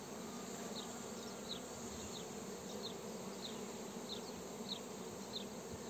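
Honeybees drone around their hives in a constant, even buzz outdoors, with a few individual bees passing near and brief chirps of other insects over the hum.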